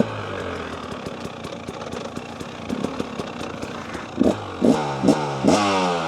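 A 2-stroke 300cc motorcycle engine runs close by with a rough, crackling idle, then is revved in several sharp, rising bursts toward the end.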